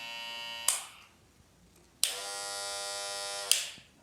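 Electric hair clippers, a CHJ, Klipzich or Kemei, buzz loudly with a steady high-pitched drone: a short run cuts off, then after a pause a second clipper runs for about one and a half seconds and stops. No talking.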